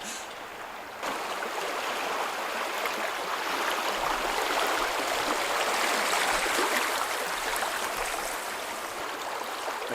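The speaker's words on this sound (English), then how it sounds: "There's a bunch of fast-moving water right at the beginning." Fast-moving river water rushes steadily past on a canoe trip down the Manitowish River, a loud, continuous broadband wash that swells slightly midway with no one talking.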